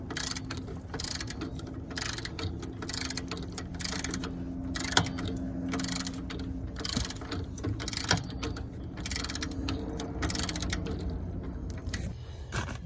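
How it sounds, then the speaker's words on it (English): A ratchet fitted with a deep-well 11 mm socket tightens the exhaust V-clamp on a Cummins ISL 9 diesel in a 2015 Tiffin Phaeton motorhome, giving repeated close bursts of clicking in a steady back-and-forth rhythm. "got a deep well 11 millimeter, so now I can continue to tighten this."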